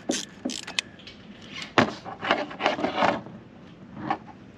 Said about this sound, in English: Just loosening that